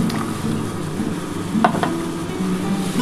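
Eggs go into a thin, lightly spiced potato-and-egg curry simmering in a pan, with a steady bubbling sizzle throughout and a couple of brief soft taps. No one speaks.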